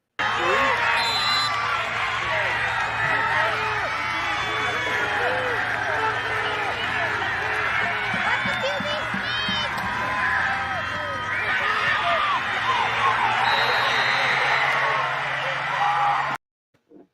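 A high school football crowd cheers and whoops after a winning 2-point conversion, a loud sustained roar of voices and screams lasting over fifteen seconds before cutting off abruptly.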